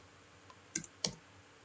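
Two crisp computer mouse clicks a fraction of a second apart, close but quiet, over faint room hiss.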